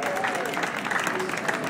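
An audience at a fencing demonstration breaks into brief, dense applause. The clapping is loud and continuous for under two seconds, with a faint voice underneath.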